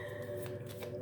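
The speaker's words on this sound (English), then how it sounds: "last shuffle, right." Quick riffling and flicking of tarot cards being shuffled close by, a few soft crisp bursts over a low steady hum.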